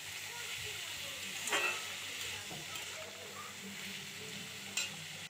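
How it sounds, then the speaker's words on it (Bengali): Chopped potato and teasel gourd fry in a pan with a soft, continuous sizzle while a spatula stirs through them, with a couple of louder scraping strokes; quiet and close. "আলু কুচিটা দিয়ে দেব ওর মধ্যে, দিয়ে আবারও ভালো করে নেড়ে চেড়ে নেব।"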